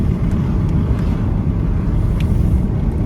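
Steady engine and road rumble from inside a car being driven fast and hard, a continuous low drone with no voices.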